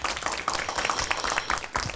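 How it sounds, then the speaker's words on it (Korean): A lecture audience claps warmly in a steady, dense burst of applause, with many hands sounding close and continuous throughout. "우리 이범 쌤에게 다시 한번 뜨거운 손뼉 부탁드립니다."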